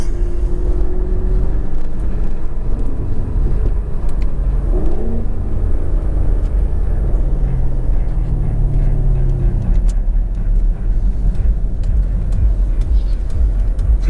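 Chevrolet Camaro SS engine accelerating hard on a street pull, a loud continuous roar rising in pitch through the gears with heavy low rumble, heard from inside the car as occupants talk.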